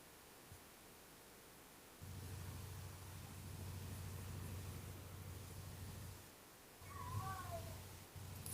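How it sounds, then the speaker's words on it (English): A cat meows briefly near the end, a short wavering cry over a steady low hum and faint background noise. "that was my cat"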